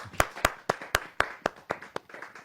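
Clapping at a Hindi poetry gathering (kavi sammelan), heard as about ten sharp, evenly spaced claps close by, like a single pair of hands keeping a rhythm.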